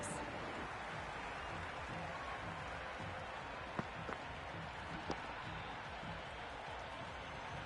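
Stadium crowd applause and cheering in the Cricket 26 video game during a CSK vs RCB IPL T20 match, a steady broad wash of noise throughout with a few sharp claps standing out.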